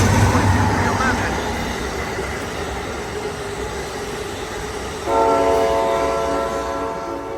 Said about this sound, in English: Gotta love that beautiful P42 horn sound on P42 number